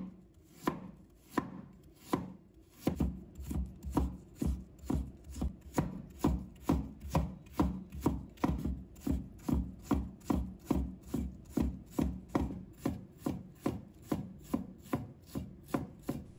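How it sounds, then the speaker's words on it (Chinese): A knife chops fresh ginger into fine mince on a cutting board, a few slow strikes at first, then a long, steady run of quick, even taps close by, with no talk. "再准备一块生姜，把它切成末。"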